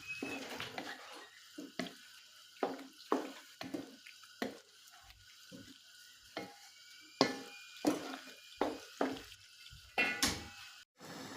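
Tomatoes for shakshuka sizzle faintly in a frying pan while a utensil scrapes and clinks against it in a steady, repeated rhythm, quiet and close.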